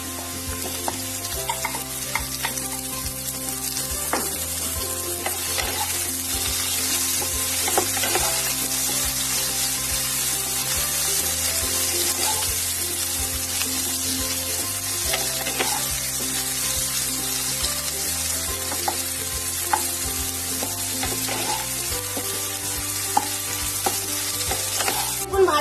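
Brinjal pieces sizzle and crackle steadily in hot oil in a pan already seasoned with salt and turmeric for a Bengali fish curry with potato, with occasional scraping as they are stirred; no one speaks.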